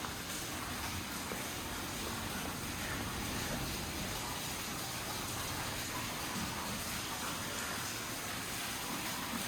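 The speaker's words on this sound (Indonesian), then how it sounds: "Itu ada air pancuran" Water pours steadily from a spout inside a sea cave, giving a continuous broad rushing wash that stays loud and even throughout, with no talking.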